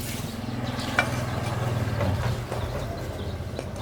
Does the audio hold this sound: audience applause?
no